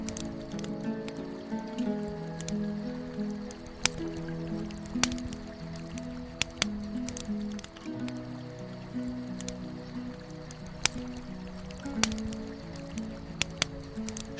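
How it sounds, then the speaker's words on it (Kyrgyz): River water in a mountain summer pasture trickles and drips steadily, with scattered sharp droplet splashes over a soft, continuous liquid bed and faint tonal background. "Шылдырап аккан дарыянын суусу"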